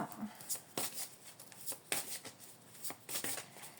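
Oracle cards are shuffled by hand, a series of soft, close riffling and slapping bursts at an uneven pace, fairly quiet.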